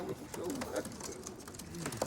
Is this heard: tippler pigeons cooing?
yes